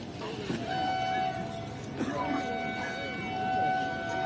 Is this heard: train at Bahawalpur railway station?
yes